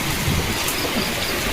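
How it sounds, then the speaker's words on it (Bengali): Heavy rain pours down during a thunderstorm, a dense, steady hiss with a low rumble of thunder beneath it, with no voices. "আকাশে মেঘ ডাকছে প্রচুর আর বৃষ্টির ফোঁটা পড়ছে"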